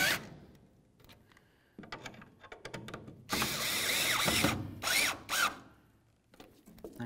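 A power drill snugs the tail light bolts on a 2004-2006 Chevy Silverado, heard as a few short whirring bursts, then one sustained run and two quick final pulses, close and fairly loud.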